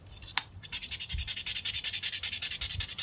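Wet sandpaper rubs across the surface of a mini solar cell in quick, steady back-and-forth strokes, a soft rhythmic scratching that continues throughout with one small knock near the start.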